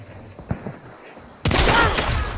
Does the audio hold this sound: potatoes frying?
no